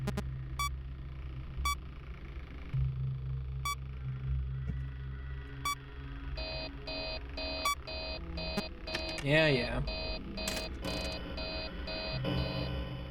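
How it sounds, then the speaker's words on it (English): Repeated electronic alarm beeping from the ventilation error warning in the Five Nights at Freddy's 3 video game, regular short beeps over a steady background hum, with a faster burst of tones later and a brief spoken word. "Why are you still beeping?"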